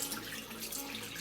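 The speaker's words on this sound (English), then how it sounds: "First rinse it with water and then run your finger around it" Tap water runs steadily while a makeup brush is rinsed under it, a soft continuous splashing hiss at close range with no voices.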